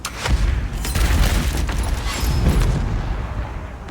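Hand cannons fire a full broadside in a pirate video game: a rolling fusillade of heavy booms and cracks that overlap in quick succession and stay loud before tapering off at the end.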